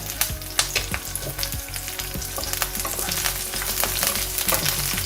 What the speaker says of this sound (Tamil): தேங்காய் பூ, கருவேப்பிலை இவ்வளோத்தையும் வதக்குவோம்.